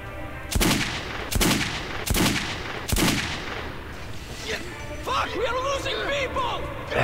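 Four loud, evenly spaced revolver shots boom in the Metro 2033 video game, each a sharp crack with a short tail, followed by a voice talking over faint background noise.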